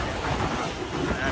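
Train at a village railway station at sunset, a steady broadband rumble of rolling railcars close by, continuous through the moment with faint voices underneath.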